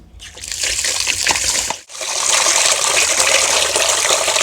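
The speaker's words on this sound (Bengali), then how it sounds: "তো আমি এখন চাউলটা ধুয়ে নেই" Rice grains are washed in water with continuous loud sloshing and trickling, broken by one brief pause midway, then resuming steadily and close by.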